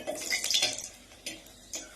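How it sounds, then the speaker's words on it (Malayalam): Dried red chillies are stirred in a pan for a brinjal chutney, giving a few quick metallic scrapes and clinks of a utensil against the pan over a soft sizzle, close and fairly light. "ഇനി ഇതിലേക്ക് രണ്ട് മുളകും വറുത്തെടുക്കാം"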